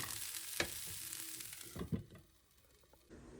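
Buckwheat frying in a pan for breakfast, giving a steady sizzle with a few scraping stir strokes and a sharp clatter, fading to a softer crackle near the end.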